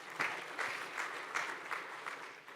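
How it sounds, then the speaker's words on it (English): Applause from a conference audience at a Cosmos blockchain ecosystem event in Istanbul, moderately loud and steady, with a few swelling bursts of clapping through a short stretch. "Go on, round of applause"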